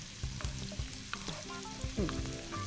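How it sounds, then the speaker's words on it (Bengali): Chopped onions frying in a pan toward light brown, a steady sizzle with repeated scraping stirs of a utensil against the pan, no talk over it. "পেঁয়াজটা এটা আমরা একটু লাইট ব্রাউন কালার করে নেব"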